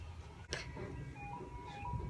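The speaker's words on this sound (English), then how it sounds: "Ice cream truck." An ice cream truck passes by, its faint tinkling jingle melody carrying from a distance over a low background rumble and a brief clatter.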